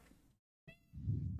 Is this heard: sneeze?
no